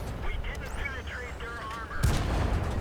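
A heavy tank cannon shot in World of Tanks erupts as a loud broadband boom near the end, following game sounds with whistling tones and a voice talking beneath.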